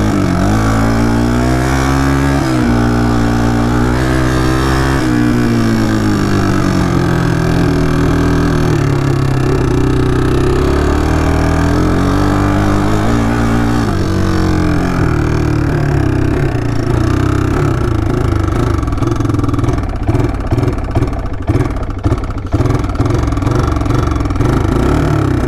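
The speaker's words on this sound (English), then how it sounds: "it sounds pretty weird, but maybe that's just how little four-wheelers sound" A Kawasaki Bayou 220 four-wheeler engine runs loud and close, needing a carburetor clean. It holds a steady drone with wavering pitch changes, and choppy pulsing near the end.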